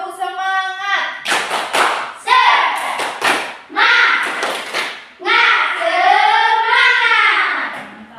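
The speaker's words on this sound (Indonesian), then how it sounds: "Tepuk semangat." A class performs the rhythmic tepuk semangat routine, with bursts of patterned hand claps alternating with chanted voices, fairly close and lively.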